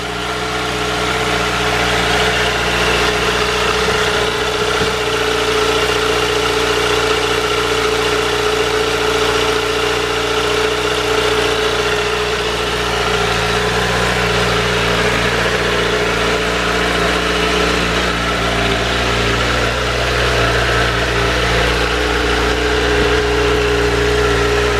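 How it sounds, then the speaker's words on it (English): A stock Honda CBR1000RR Fireblade motorcycle engine idles from a cold start, a loud, steady, even rumble with a constant drone held close throughout and no talking. "And that's what a standard Honda Fireblade sounds like."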